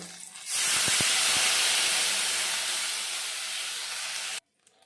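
Water poured into a hot pan of frying greens for a Bengali helencha shak dish with bori and small fish gives a loud, steady hiss that surges at once, holds for about four seconds, then cuts off abruptly.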